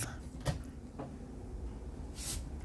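Cabinet doors in the kitchen of a 2024 Sunlite LTD 19BH bunkhouse camper open and shut with a few soft knocks and a light creak, fairly quiet and close, with a brief brighter swish near the end.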